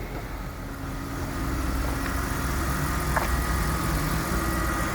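A BMW 328i engine idles steadily and close, a constant broadband rumble with a faint ticking texture and no talk.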